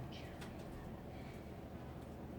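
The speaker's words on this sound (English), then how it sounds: "I think that bird is getting ready to fly." A pigeon or dove coos from just outside a window, a soft, muffled call heard faintly over steady indoor background noise.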